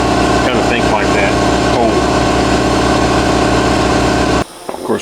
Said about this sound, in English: we got the compressor rolling